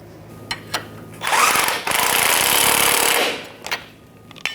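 A socket wrench snugs a rear shock bolt nut on a 1997-2006 Jeep Wrangler, giving a few sharp clicks and then a sustained loud ratcheting burst lasting about two seconds, close up, followed by more scattered clicks.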